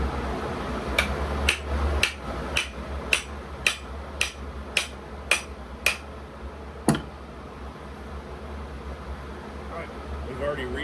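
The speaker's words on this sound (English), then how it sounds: "I'm gonna give it a few more with the hammer" Roughly ten sharp hammer blows ring out at a steady rhythm on a hot axe head during forging, then a final lone strike after a pause, with a low mechanical hum beneath.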